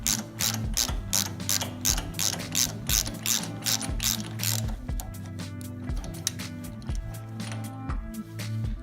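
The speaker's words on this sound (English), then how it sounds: "Then grab a 21mm spark plug socket, a 6-inch extension and your ratchet." A hand ratchet with a 21mm spark plug socket and 6-inch extension loosens the spark plug on a 7HP or 15HP chipper/shredder, giving rapid, close, steady clicking in repeated bursts with short pauses between strokes.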